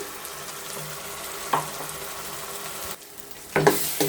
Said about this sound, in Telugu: కొంచెం కొత్తిమీర పచ్చిమిరపకాయ బాగా ఫ్రై చేసుకుందాం